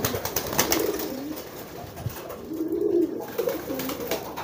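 Pigeons coo softly in repeated low murmuring phrases, close by and mostly alone, with light background rustle.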